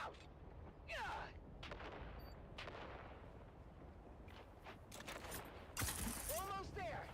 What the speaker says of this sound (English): On 3, we grenade and move! 3, 2, grenades out!